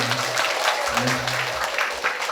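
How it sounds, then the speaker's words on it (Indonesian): A crowd of vocational high school students in Cijulang, Pangandaran, West Java applauds at a motivational talk, a steady, loud wash of clapping filling the whole stretch. "tepuk tangan buat Anda semua"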